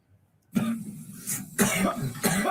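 Harsh, wet coughs from a teenager on a ventilator come close up in several ragged bursts, with strained breathing between them.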